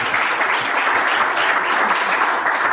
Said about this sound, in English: I kind of just felt the urge to give an extra applause to this.